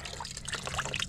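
Discolored coolant trickling and dribbling out of a 2008 Chevrolet Colorado during a coolant flush, a faint, short, close splashing of liquid with no voices.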